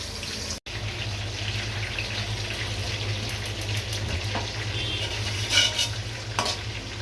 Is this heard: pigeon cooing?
no